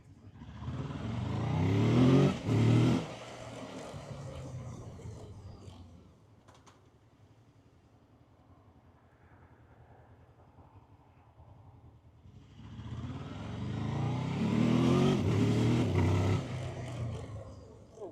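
A Honda VFR800X Crossrunner motorcycle engine revs loudly nearby, drops to a low idle rumble for several seconds, then accelerates and roars again while riding off.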